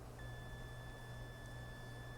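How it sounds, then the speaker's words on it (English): Steady continuity beep from a voltmeter held on a Ryobi pole saw motor during a blown-fuse repair, a thin sustained tone running unbroken over a low electrical hum, faint and close. "You get a beep on the voltmeter that continuity's good"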